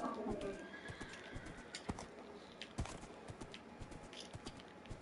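Horses whinny in the video game Minecraft over a busy background of hoof clops and scattered clicks, the sounds fairly faint and somewhat synthetic.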